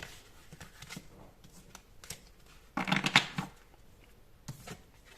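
Tarot cards are shuffled and drawn on a table nearby, giving short papery riffles and flicks, with one louder burst of rapid shuffling in the middle, all fairly quiet and without talk.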